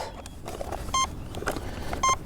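Freewing Banshee or Vulcan RC jet electronics chiming on startup after the battery is plugged in: two short, clear tonal beeps about a second apart over faint background noise.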